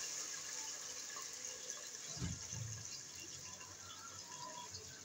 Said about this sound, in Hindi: ये जी पानी डाल रही है